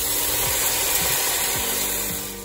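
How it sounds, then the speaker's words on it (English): Food sizzles in a hot skillet with a loud, continuous close-up hiss that stays steady throughout and fades slightly at the end. "Do you hear that sizzle?"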